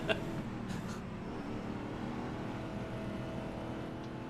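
A GT4 race car in the iRacing sim drives on with a steady engine drone, a faint brief whoosh near the start and a continuous moderate hum throughout.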